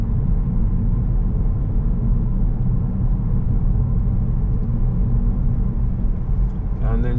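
Inside a car on the road, a steady low engine and road rumble drones continuously as the car approaches a roundabout, close and constant, with a voice briefly at the end.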